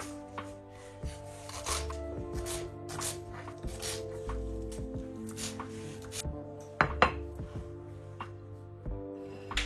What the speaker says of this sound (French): je vais maintenant couper le persil